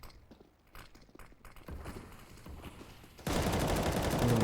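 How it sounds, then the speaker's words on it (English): Gunfire in the video game Counter-Strike during a competitive match, starting with scattered shots and footsteps, then swelling into a dense, loud burst of rapid fire near the end. "There are so many bullets coming through"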